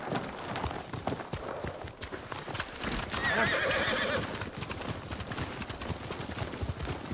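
Horses gallop with rapid clip-clopping hooves and let out a loud whinny midway, a battle-ready mounted group in the samurai video game Ghost of Tsushima, heard clearly and alone without talk.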